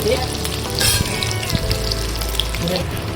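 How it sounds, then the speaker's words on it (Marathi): Dried coconut roasts in two tablespoons of oil for a chana masala paste, giving a loud, close, continuous sizzle with crackles and light stirring scrapes. "दोन टेबल स्पून ऑइल टाकलं आणि सुकं खोबरं आपण भाजून घेतो"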